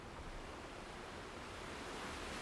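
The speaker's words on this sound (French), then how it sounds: "au rythme des vagues" Gentle ocean waves wash steadily onto a shoreline in a soft, continuous surf hiss, quiet and even throughout with no voices, setting a calm seaside mood.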